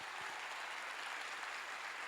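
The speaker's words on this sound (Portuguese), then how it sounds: "Você pode dar uma salva de palmas para Jesus?" Church congregation applauding during a service, a steady, faint, distant wash of many hands clapping without pause.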